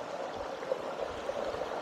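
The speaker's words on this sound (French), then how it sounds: "Et le petit bruit que vous entendez, c'est le petit ruisseau que vous avez là." A small mountain stream flows beneath a snow-covered bridge, giving a soft, steady trickle and burble that stays faint and continuous with no voices.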